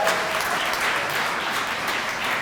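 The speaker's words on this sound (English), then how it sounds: "They deserve another round of applause." A crowd at a downtown association's annual meeting applauds event staff, a steady, even wash of clapping lasting throughout with no talk over it.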